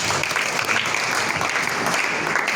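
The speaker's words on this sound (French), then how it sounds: "Acclame Jésus" Church congregation applauding and acclaiming during a French-language prophecy and deliverance service, a dense steady roar of clapping filling the whole stretch with voices mixed in.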